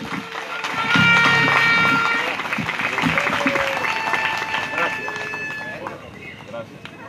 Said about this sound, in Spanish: Un aplauso para Cristo Jesús.